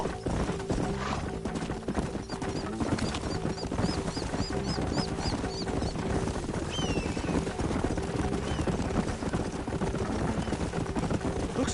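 Horse hooves clip-clopping steadily through the whole stretch in a Western video game, with a continuous layer of game music and ambience, including a few whistles, running under them.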